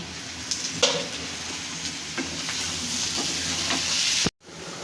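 Bitter gourd with prawns fries in a pan, a steady close sizzle with a few faint clinks of stirring, ending in an abrupt cut.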